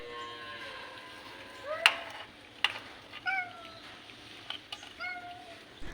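A house cat meows several times up close, its short, rising calls spaced irregularly and fairly soft, broken by a couple of sharp clicks and knocks against a quiet background.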